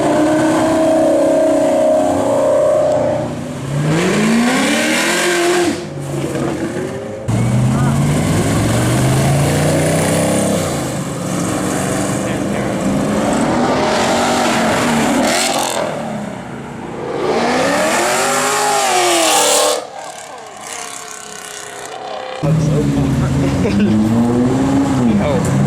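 Race cars and exotic cars, including a Holden and a Lamborghini, accelerate hard away from a Houston Cars and Coffee meet, engines rising and falling in repeated revving passes, loud and close, with people talking throughout.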